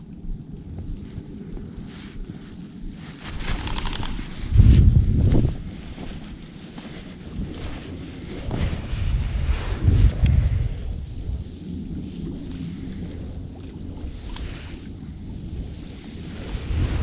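Cold wind gusting across a lowland lake during bass fishing, a steady rumbling buffet on the microphone with heavier gusts swelling around a few moments, no voices.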